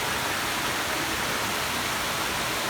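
Palaypay Falls in Pamplona, Negros Oriental, rushing as a steady, even wash of falling water, continuous and fairly distant with no other sounds standing out.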